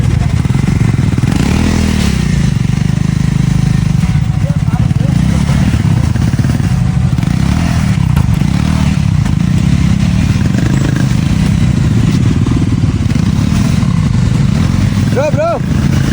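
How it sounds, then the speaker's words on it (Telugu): An NS motorcycle crawls over a rocky forest road among a large group of riders, its engine loud and close with uneven revving and clattering bumps over stones, people talking throughout. "ఎన్ఎస్ బైక్ కూడా వెళ్ళింది ఇక్కడ."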